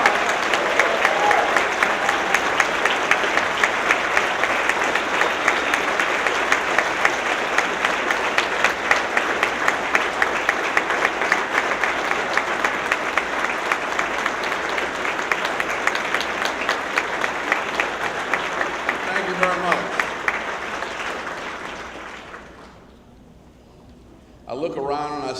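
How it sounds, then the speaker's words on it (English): A large audience breaks into sustained, loud applause for Ambassador Andrew Young at a lecture in Oakland, steady clapping that fades out near the end. "Give Ambassador Young an Oakland round of applause."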